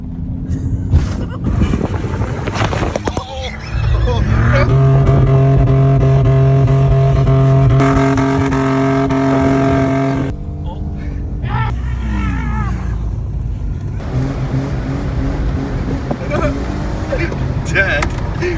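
A two-wheel drive Ford Ranger pickup stuck in place, its engine revving and straining in rising and falling surges, close and loud with wind buffeting, while people talk over it.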